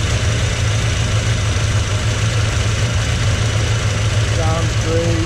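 A restored 1957 Chevrolet Nomad restomod with a fuel-injected 383 blueprint V8 idling, a steady low rumble running throughout, with a few brief faint chirps near the end.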